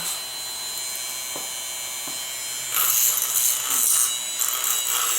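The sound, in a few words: Dremel rotary tool run around a pen blank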